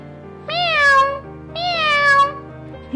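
A cartoon black cat, a fairy transformed by magic, gives two long, drawn-out meows close up, each rising then falling, followed by a short quiet gap.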